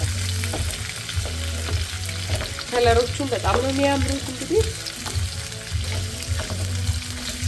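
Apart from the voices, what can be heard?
vegetables frying in oil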